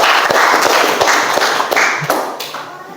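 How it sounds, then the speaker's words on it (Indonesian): Classroom students clap together in a brief, uneven burst of applause that thins out and fades toward the end. "Kita beri tepuk tangan ya."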